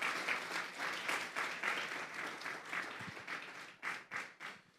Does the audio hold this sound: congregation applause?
yes